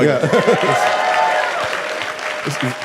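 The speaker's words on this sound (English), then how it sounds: "You should cheer for this." An audience at an event celebrating a hundred years of The New Yorker claps and cheers in a short, fairly loud burst that fades slightly, with a voice speaking over it.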